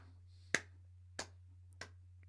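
Three sharp hand claps spaced roughly evenly apart, crisp and fairly close, ringing out over a steady low electrical hum with no talking.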